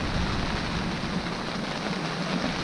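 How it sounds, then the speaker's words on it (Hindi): Heavy rain and strong wind batter the outside of a shelter at night in a remote part of Meghalaya, a steady, dense roar of downpour with no breaks, filling the whole space. "बहुत जोर का हवा चल रहा है और बाहर बहुत बारिश हो रहा है"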